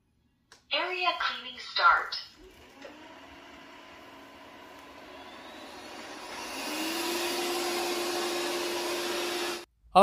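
A Realme TechLife robot vacuum cleaning a floor gives a steady whirring hum that builds gradually and holds for several seconds after brief talk, then cuts off abruptly.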